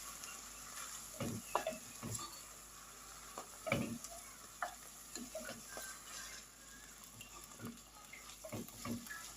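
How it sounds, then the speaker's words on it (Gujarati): Mustard greens are stirred in a pan. Soft, faint scraping strokes come at irregular intervals over a low, steady background hiss. "આપણે બધી એમાં નાખી દીધી છે, થોડીક વાર હલાવશું"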